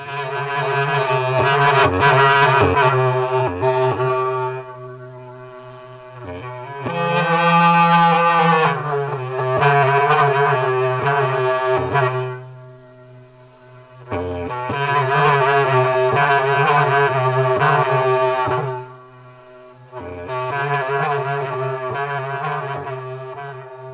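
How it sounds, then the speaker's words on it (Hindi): Bans geet folk melody on a bamboo wind instrument, steady droning tones in long phrases separated by brief pauses, clear and fairly close. "जानती हूँ ये बांस गीत की आवाज है।"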